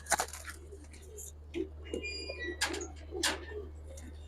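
Pigeons in a village loft give soft, low coos with some faint wing flutters and scattered higher sounds, set against a steady hum; the sounds come in intermittent bursts and stay fairly quiet.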